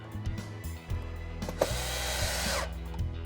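A power tool drives two screws to fasten a motor controller under the chassis of an MGI Navigator golf trolley, giving short close whirring bursts with a longer, louder spin in the middle.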